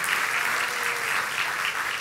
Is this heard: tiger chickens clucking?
no